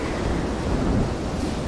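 Storm at sea in Silent Hunter 3, a steady roar of gusting wind and crashing waves around a U-boat, heavy and continuous with no speech.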